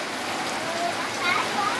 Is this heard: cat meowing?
no